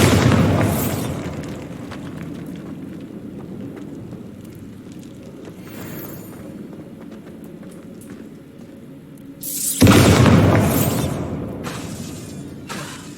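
A Bombarda spell explosion in Hogwarts Legacy, a sharp blast at the start followed by a long rumbling, debris-strewn tail, then a second louder burst of crashing impact near the end.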